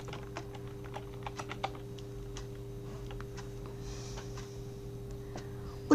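Typing on a computer keyboard, a quick irregular run of light clicking keystrokes, close and fairly soft over a faint steady hum, with no talking.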